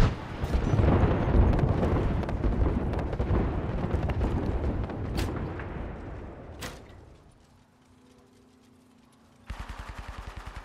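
An artillery strike in Apex Legends, a dense roar of rumbling blasts and crackling impacts sustained for several seconds before fading, followed by a rapid burst of sharp gunfire.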